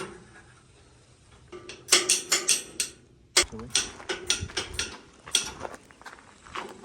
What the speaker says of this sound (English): I'm trying to tighten this bolt